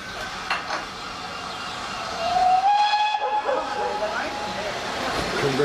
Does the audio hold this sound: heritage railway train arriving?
yes